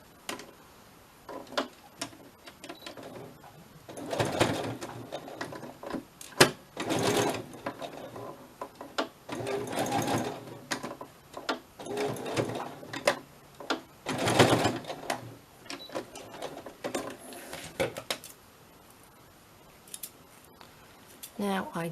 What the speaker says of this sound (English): My machine is vibrating on my table, so I do apologise if it's very, very noisy.